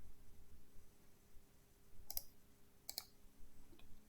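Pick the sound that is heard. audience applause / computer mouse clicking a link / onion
computer mouse clicking a link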